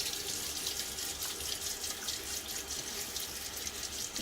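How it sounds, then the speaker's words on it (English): Running tap water splashes into a sink as it is scooped onto a face before a shave, a steady broadband rush with no talk over it. "Let's just throw a little bit of water on my face."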